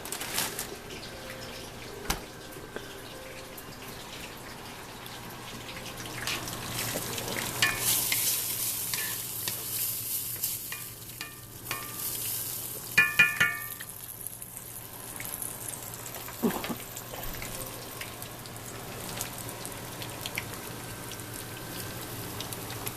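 Meatballs sizzle in a frying pan while being stirred, a steady crackling fry with scraping and clattering stirs rising in the middle, close and continuous with no talk.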